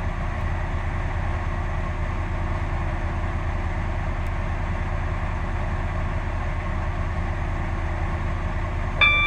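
A Roblox Stepford County Railway train stands at Stepford Central station, giving a steady low rumble and hum that runs unbroken, with a brief clunk at the very end.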